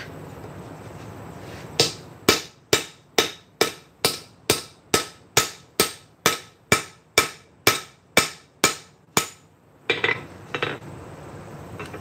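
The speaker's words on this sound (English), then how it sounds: "Loving the real anvil." Metal struck on a real anvil during blacksmith forging, about sixteen sharp ringing hammer blows in a steady rhythm, loud and close, then a pause and a couple of lighter taps.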